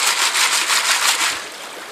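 Rocks tumble and grind inside a rock washer used to search for gold, a loud, close, rough rushing churn that pulses in a steady rhythm before easing slightly.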